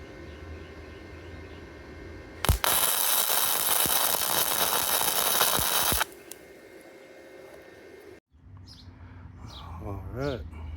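Steel rod pieces of half-inch thickness being welded for a charcoal chimney starter, a loud steady crackling hiss lasting several seconds and ending abruptly, followed by quieter workshop sounds.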